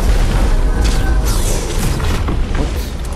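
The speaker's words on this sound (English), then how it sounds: "I'm getting shot from behind you." Gunfire in the Fortnite video game, with a loud, dense barrage of overlapping booming shots and bursts that runs continuously through the whole stretch.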